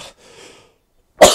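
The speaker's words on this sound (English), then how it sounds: "why do I cough when I laugh too hard?" A character in the animated RWBY Chibi series gives one sudden, loud cough at the end, after a short stretch of soft breathy sound and a quiet pause.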